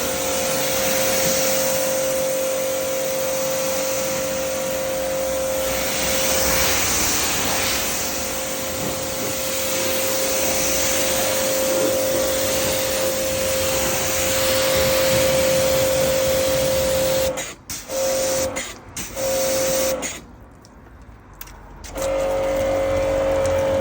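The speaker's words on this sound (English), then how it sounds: "We're going to rinse it off now, top down." A pressure washer rinses a car from the top down, a loud steady high-pressure spray hiss with a constant motor whine, broken by a few short stops and restarts near the end.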